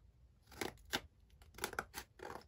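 Scissors snip through paper pages being trimmed for a handmade art journal, a series of crisp, close cuts in quick bursts with brief pauses between them.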